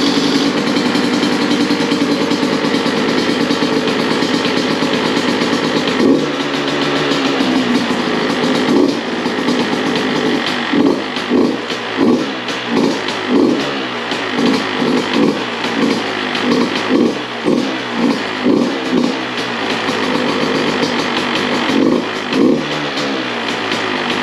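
A Beta 200RR dirt bike engine runs steadily and close by, and a rapid series of throttle pulses swells through the middle before it settles back toward an even idle. No one speaks.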